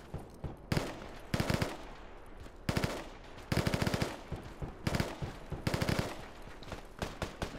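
Suppressing gunfire in the tactical shooter Project Reality, rapid automatic bursts recurring in several clusters, sharp and fairly close, with a brief spoken word among them.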